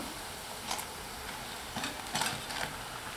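Green gram vadas frying in hot oil, with a soft, low-level sizzle and a few brief crackling bursts once the bubbling has mostly settled.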